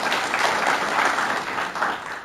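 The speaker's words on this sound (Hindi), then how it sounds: "तालियां बजाइए प्रभु जी के लिए" A live audience applauds loudly and steadily at a stress-management lecture, a dense wash of clapping that fills the whole stretch without breaks.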